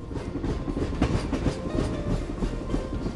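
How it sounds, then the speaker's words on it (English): Steady rumble of a train leaving Sealdah station, with rhythmic clickety-clack of wheels over rail joints, continuous and fairly loud, no voices. "As the wheels of train started rolling, our journey began."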